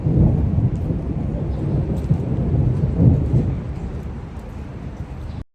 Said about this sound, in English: It's been raining so hard.